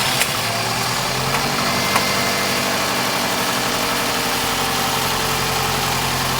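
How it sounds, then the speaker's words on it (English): A cold car engine that has been losing power runs at idle after starting, a steady close mechanical hum with a faint rhythmic pulse and a couple of small clicks early on. "So the engine is cold right now. We're gonna start it."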